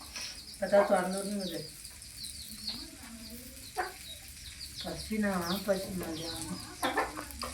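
Hens cluck and chicks peep in scattered bursts nearby, over a quiet background, with short gaps between the calls.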